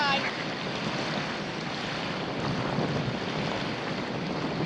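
Wind blows hard and steadily across a lake at a state park campground, a constant roaring rush with buffeting against the microphone and no clear pauses.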